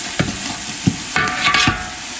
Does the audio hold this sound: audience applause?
no